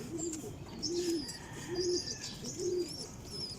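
Pigeons coo while drinking, four evenly spaced low coos at a moderate distance, with small birds chirping higher in the background.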